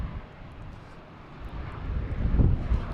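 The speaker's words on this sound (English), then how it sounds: "next coming in, we have a JetBlue coming in from Santo Domingo" A JetBlue airliner arriving from Santo Domingo at Boston Logan Airport, its engine roar building from a low distant rumble to a louder, broad swell near the end, with slight wind noise on the microphone.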